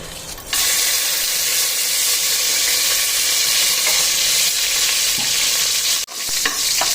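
Whole spices (cinnamon, cloves and cardamom) frying in hot oil as the base for a chicken biryani, a loud, steady sizzle that jumps in after a quiet half second and runs on close and unbroken, with a brief dip near the end.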